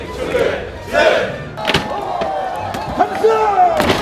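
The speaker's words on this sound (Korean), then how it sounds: "함성!" A large crowd of striking Hyundai and Kia autoworkers at a union rally raises a loud, roaring collective shout in several surging waves, with sharp thuds and bangs among the voices.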